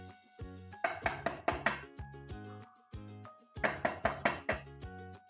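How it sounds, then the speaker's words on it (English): Knocks on a door in a children's story, delivered in quick groups of raps separated by short pauses, crisp and fairly close, with a faint tonal background and no talking. "There's someone at the door again."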